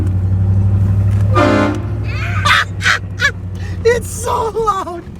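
A loud, close blast of a train horn fitted to a car, a sustained low tone that cuts out after about two seconds, followed by people talking and reacting excitedly nearby.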